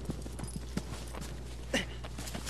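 Horse hooves clip-clop at a steady walking pace in Shadow of the Colossus, with a few sharper steps standing out over a constant low game hum.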